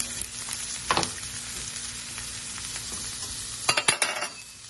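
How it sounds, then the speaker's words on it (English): Garlic and onion sautéing in a pan for sautéed zucchini, a steady low sizzle with a few louder stirring scrapes near the start and toward the end, no voices. "So first, I'm going to saute a little garlic and onion."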